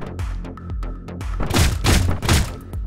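A gun in Hotline Miami 2 fires in a few muffled, thudding bursts, loud and close, with a sharper cluster of shots toward the end over a low droning background.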